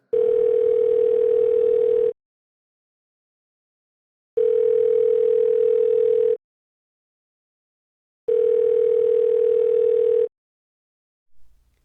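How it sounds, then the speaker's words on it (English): A telephone ringback tone sounds on an outgoing call, three long steady tones of about two seconds each separated by silent gaps, loud and clean. "She listened to Nikki's phone ring"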